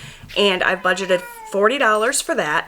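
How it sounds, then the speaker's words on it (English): Pet cats playing and wrestling in a home, a few meows rising faintly behind a woman's continuous speech, which dominates throughout. "Sorry if you guys can hear my cats in the background."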